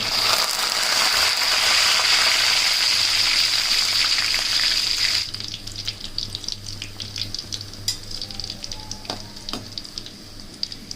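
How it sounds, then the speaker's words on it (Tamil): Mustard seeds, crushed garlic and curry leaves frying in hot oil for a prawn fry: a loud, dense sizzle with popping for the first five seconds, then quieter crackling and scattered sharp pops, with no talking. "கடுகு போட்டு பொரிஞ்ச உடனே தட்டி வச்ச பூண்டு வந்து கருவேப்பிலை"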